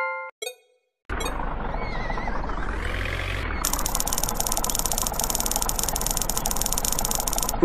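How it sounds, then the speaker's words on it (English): A tractor engine in a farming simulator game, a steady mid-pitched drone that revs up, settles and runs on under a bright synthetic hiss, preceded by short blips and a brief silence. "Drive tractor to shop marker to purchase seeds."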